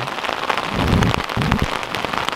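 Heavy rain pounding on a backpacking tent in the Montana wilderness, a loud dense patter with low drumming thuds as drops hit the fabric up close.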